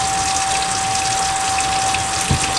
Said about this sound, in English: have you wash your hands there. You got this soap, you gotta use the soap